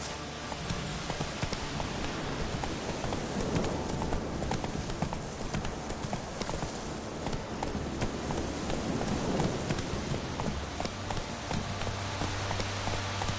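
Horse hooves clip-clop steadily at a brisk gait in The Witcher 3, a continuous rhythmic trot over soft ambient game sound, with no speech.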